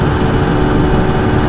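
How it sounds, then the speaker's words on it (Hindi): A lightweight delivery motorbike on a road in Qatar gives a constant loud, rough engine roar, droning evenly and close up with no pauses. "बाइक शोर ऐसे कर रही है जैसे मैं 200 की स्पीड के अंदर जा रहा हूँ।"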